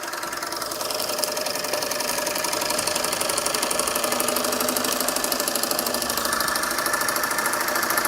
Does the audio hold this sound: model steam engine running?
yes